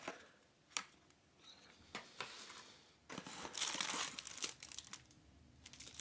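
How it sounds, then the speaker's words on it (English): Cardboard box packaging for a Nikon AF-P DX Nikkor 70-300mm lens being handled and unpacked, with close crinkling, rustling and tearing bursts and a few light taps as contents are lifted out and set down. "taking a quick look in the box packaging, lifting out the contents and setting them across the tabletop"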